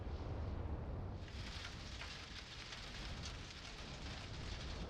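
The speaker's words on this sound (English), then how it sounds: "Rain? Oh my, it's just water." Steady rain in Outer Wilds, a dense continuous hiss of falling water with a low rumbling bed, brightening after the first second and holding evenly, faint overall.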